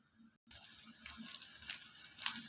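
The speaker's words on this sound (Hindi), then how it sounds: "ये हम पकौड़े और डाल रहे हैं। इस तरह ये सारे पकौड़े हम तल लेंगे" Mixed vegetable pakoras frying in a pan of hot oil, a steady soft hiss and crackle that rises slightly as fresh batter goes in, with no talking.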